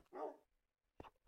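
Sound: dog barking in Minecraft Crafting Dead video game

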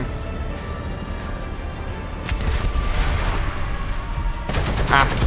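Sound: gunfire in a tank video game

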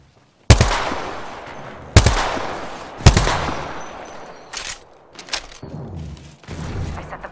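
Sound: gunfire in Apex Legends video game

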